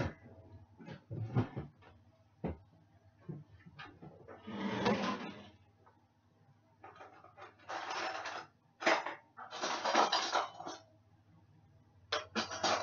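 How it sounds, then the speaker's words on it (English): Spoon stirring sugar in a bowl, heard as a series of intermittent scraping and rubbing bursts of varying length, close and fairly quiet, separated by short pauses. "Get a spoon and stir it around."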